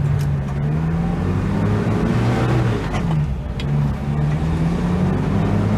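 A 1975 Mitsubishi Colt 1400 Delica minibus engine accelerating on the road: a steady, close drone that rises in pitch, briefly drops during a gear change, then climbs again, with no talk.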